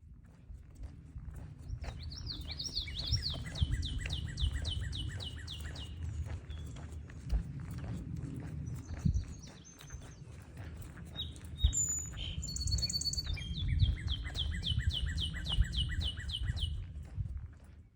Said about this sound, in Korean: 메릴랜드의 새소리를 들어보시겠습니다.